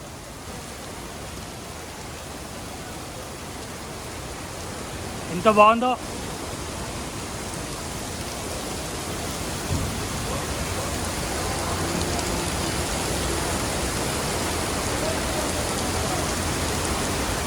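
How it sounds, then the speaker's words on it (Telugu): Steady heavy rain pours down at night in the Mind Space area of Hi-Tech City, Hyderabad, a dense continuous hiss throughout with one brief voice speaking partway through. "వర్షం అయితే దంచి కొడుతుంది ఫ్రెండ్స్"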